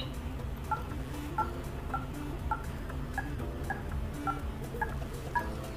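Phone keypad DTMF tones sound as an ID number is entered on a bank's automated phone service, a steady series of about eleven short, evenly spaced beeps over faint background hiss.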